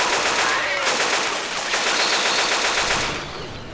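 Rapid automatic gunfire blazes from Left 4 Dead 2 in an underground dam mission, loud and continuous for a few seconds before easing into fainter bursts.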